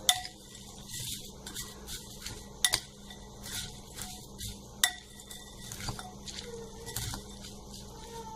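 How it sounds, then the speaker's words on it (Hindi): Chinese bhel of crispy noodles being mixed in a bowl, with repeated scraping and clinking of a spoon against the bowl in an irregular stirring rhythm, close and fairly quiet with no talk. "इसे अच्छे से हमें मिक्स कर लेना है।"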